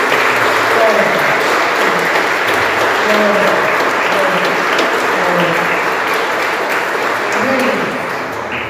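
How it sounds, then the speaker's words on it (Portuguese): A large church congregation claps steadily and energetically for several seconds, with a voice speaking faintly beneath the applause. "Você pode aplaudir o Senhor bem forte, meu Deus."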